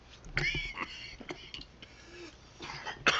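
A few short, rough coughs and throat-clearing bursts, scattered and close, with quieter breathy sounds in between.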